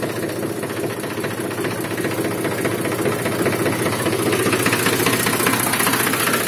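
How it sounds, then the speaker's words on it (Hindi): A Mahindra 265 tractor engine runs steadily close up, a loud continuous knocking diesel clatter with a slight rise in intensity, no voices over it. "इंजन तो ठीक है भाइयों"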